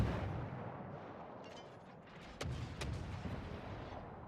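Distant booms of naval gunfire from World of Warships, with two sharper reports in the middle, over a steady low ocean-and-engine rumble.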